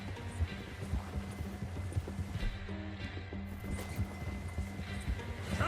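Horse hooves clip-clop steadily with an occasional neigh in the Red Dead Redemption 2 video game, sounding close and continuous over a low rumbling game background, with a brief voice near the middle.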